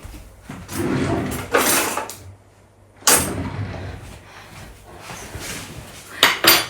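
Cutlery clinking in a home kitchen as a spoon is taken, with drawer sliding and metal rattling in bursts separated by quiet pauses.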